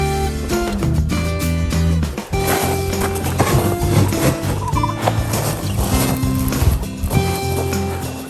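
Chickens on an off-grid homestead cluck and squawk close by, with gobbling fowl calls and rustling among them, lively and fairly loud from start to finish.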